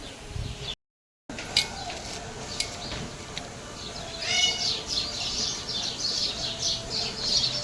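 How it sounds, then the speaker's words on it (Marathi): Sparrows chirping around a home, with scattered tweets early on, then a busier, louder burst of overlapping chirps in the second half, fairly close. "चिमण्यांची किलबिल बघू शकता मंडळी तुम्ही."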